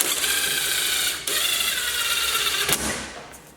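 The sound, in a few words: wheel nut being put on a brake hub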